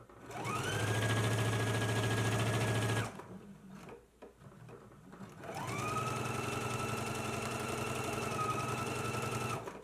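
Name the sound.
sewing machine stitching a jacket seam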